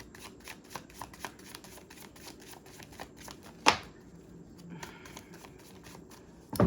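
Tarot cards being shuffled for a Libra reading make a run of soft, quick riffling taps throughout, with a couple of sharper knocks, close and fairly quiet.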